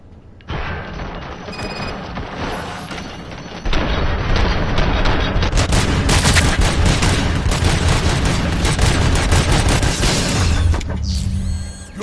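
Gunfire from the video game Robocop: Rogue City comes as dense, loud, continuous automatic shooting with booming impacts and mechanical clatter, sustained for several seconds with no talk.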